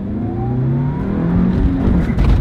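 A sports car pulls away from a standstill, its engine note rising steadily in pitch as it accelerates close by, with a continuous whirring rumble and no voices.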